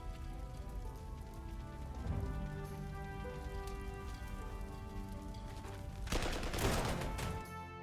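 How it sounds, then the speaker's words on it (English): Steady rain hisses over a battlefield in the strategy game Panzer Corps 2, a dense continuous patter under sustained game music tones, swelling briefly louder near the end. "It's raining, so no aircraft usage."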